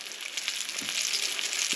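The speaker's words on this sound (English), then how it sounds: "our oil's about warm enough, so let's go ahead and get frying" Pieces of catfish frying in hot oil make a steady, close, loud sizzle with bright crackling throughout, with no talking.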